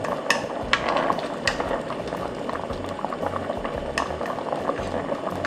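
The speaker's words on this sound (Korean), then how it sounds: "새알을 여기다 넣어서 끓여주세요" Red bean porridge (patjuk) with glutinous rice balls added, bubbling at a steady rolling boil in a pot, with continuous thick gurgling and popping close by, and a few sharp spoon or pot clinks.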